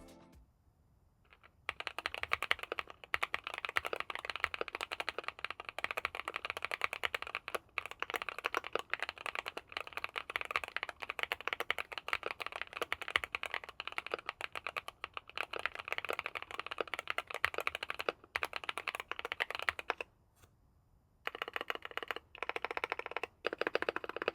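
Rapid, continuous typing on a CIDOO V75 Pro mechanical keyboard with linear switches and PBT keycaps, smooth muted keystrokes in a dense rhythm with a couple of brief pauses; no talking.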